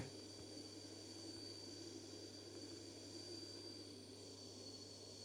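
Airplane engine in the video game Simple Sandbox 2 before takeoff, giving a faint, steady droning hum with a constant whine and no change in pitch.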